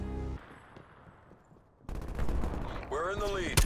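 Bursts of AK-74U gunfire in Call of Duty, sharp cracks near and loud, mixed with in-game effects and some background voice.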